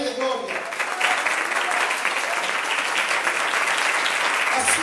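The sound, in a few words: church congregation applauding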